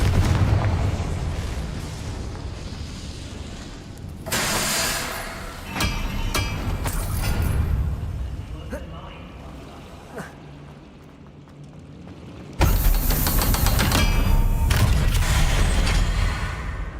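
Confringo spell blasts in the Hogwarts Legacy video game land as loud booming explosions with crackling bursts and broad rumbling bangs, some sharp, some drawn out, over game noise and a little talk.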